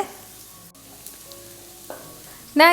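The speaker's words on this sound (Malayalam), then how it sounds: "ഇപ്പോൾ നമ്മുടെ സവാള എല്ലാം ചെറിയ രീതിയിലൊന്ന് വഴണ്ട് തുടങ്ങിയിട്ടുണ്ട്" Onions softening in a mix of ghee and coconut oil give a faint, low sizzle under a quiet, hum-filled background, ending in a brief louder burst of crackle or clatter.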